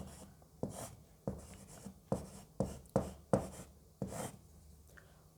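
Pen or pencil writing numbers by hand on paper, a run of about ten short, crisp strokes and taps at a fairly steady pace, close and alone.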